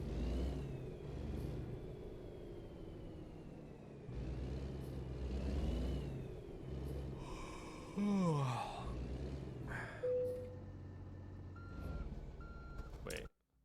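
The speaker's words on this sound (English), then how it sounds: "I'm gonna drive our Kenworth in" A Kenworth truck drives in American Truck Simulator with a steady low engine rumble that rises and falls as it accelerates. A short tonal beep sounds partway through, and a voice is heard.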